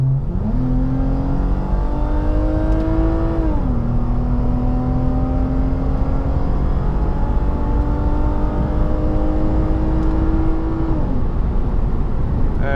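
A Lexus IS250 sedan accelerates hard in sport mode, its engine note climbing steadily through the revs, dropping with a gear change, then rising again in a long pull; loud, close cabin sound with no talking.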